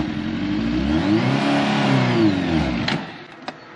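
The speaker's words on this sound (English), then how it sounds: "Really ride that clutch out and then give it some gear" A car engine revs and bogs as the clutch is let out and the car pulls away in first gear, a steady loud drone rising and falling in pitch, with a couple of sharp clicks near the end.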